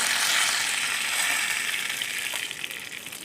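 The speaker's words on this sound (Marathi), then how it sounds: "कढईत गरम तेल करत ठेवलं, त्यात थोडीशी मोहरी टाकली. मोहरी छान तडतडली की त्यात कढीपत्त्याची पानं घातली." Cumin seeds tempering in hot oil in a wok, hissing and crackling in a steady dense sizzle close up, easing slightly toward the end, with no talking.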